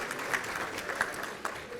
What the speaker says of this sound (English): let's give a big round of applause for all of our employees who have shared their talents and love